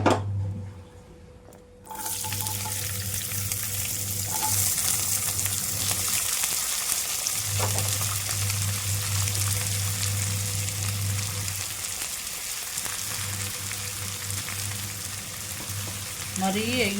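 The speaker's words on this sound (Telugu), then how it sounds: "మరీ ఎగిపోకూడదు, కొంచెం లైట్గా ఫ్రై చేసుకుంటే సమోసాలోకి బాగుంటుందండి." Onion samosas fry in oil in a pan with a continuous, even sizzle that starts after a brief quiet moment and carries on close and steady to the end.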